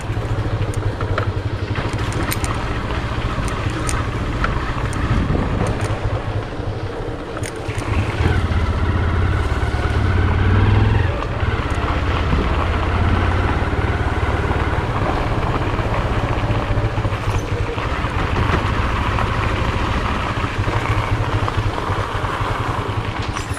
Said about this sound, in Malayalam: ബൈക്കിൻ്റെ ശബ്ദം ശല്യം എന്തോരം ഉണ്ടെന്ന് അറിയാം നമുക്കിപ്പോൾ.